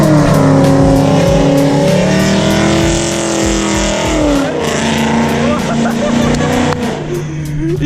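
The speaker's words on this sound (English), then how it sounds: "Is he doing donuts?" A car doing donuts revs hard and continuously, its engine pitch rising and falling with tire noise, loud and close throughout, with people talking over it.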